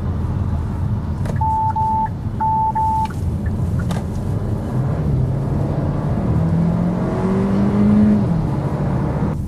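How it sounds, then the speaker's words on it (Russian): A Hyundai Kona N Line accelerates on an open road, its engine note climbing steadily under a broad, loud whir of road and wind noise, with a brief tonal beeping early on. "Для повседневного автомобиля N-Line разгон нормальный."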